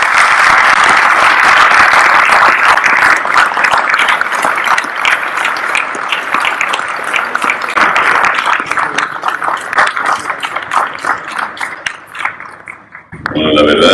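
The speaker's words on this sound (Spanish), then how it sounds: "Queremos que le demos un fuerte aplauso al doctor Félix Martín Zárraga por estar aquí." Audience applause for Dr. Félix Martín Zárraga at the Universidad Interamericana, loud sustained clapping from a full room that fades out near the end.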